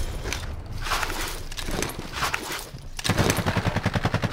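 Warzone video game gunfire: distant muffled bursts early on, then a loud, close automatic weapon firing rapid evenly spaced shots in the final second and a half.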